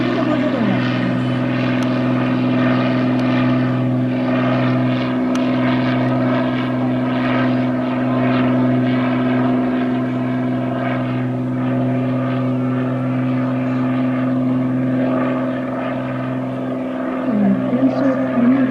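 A propeller aircraft climbs during an airshow at the 2018 Kohnan Airport Festival, with a steady droning engine and propeller hum that holds for almost twenty seconds while an announcer talks over it.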